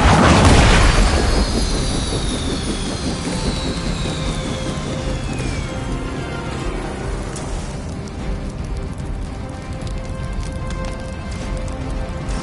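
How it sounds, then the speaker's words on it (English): A helicopter prepares for takeoff in the Marvel Midnight Suns video game: a loud burst opens into a sustained roaring engine drone with falling whine tones, steady and dense throughout. "The helicopter is preparing for takeoff."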